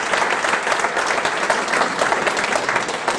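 An audience claps at the ribbon cutting for the Draper Lofts Apartments in a converted historic school building, steady dense applause filling the whole moment with a few cheers mixed in.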